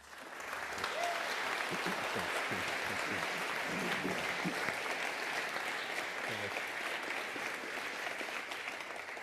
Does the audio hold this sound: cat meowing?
no